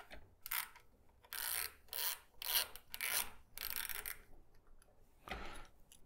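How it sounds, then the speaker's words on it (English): Esker Orion tool driven by a 3/8 inch ratchet turning a suspension bearing lock ring, giving a series of close, rhythmic clicking ratchet strokes in short bursts with brief pauses between them. "Using the Esker Orion tool and a 3/8 inch ratchet, remove the lock ring by turning it clockwise."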